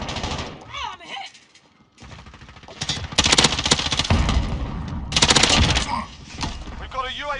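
M13 assault rifle fire in a Modern Warfare online match comes in loud, dense automatic bursts with sustained rattling volleys, while game radio voices call out between shots.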